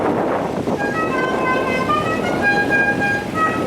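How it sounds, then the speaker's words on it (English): A loud, sustained multi-tone air horn on a customised vehicle at a steam rally blares continuously, close by, over engine rumble. "And the air horns as well."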